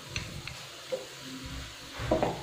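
Almond halwa is stirred in a pan over low heat with faint scraping and soft sizzling in quiet, irregular strokes, close by and without talk.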